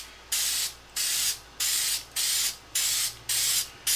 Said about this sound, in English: spray back and forth across the wood